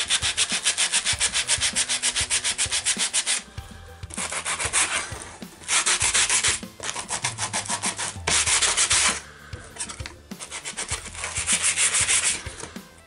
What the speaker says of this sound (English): I'm going to get a little bit of sanding action going on it.